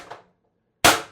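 A single sharp report from a Pistelle X-68 air pistol fitted with an MCS 4.5-inch stainless .685 threaded barrel and MCS Reaper, loud and close, with a brief decaying tail and a faint earlier click just before.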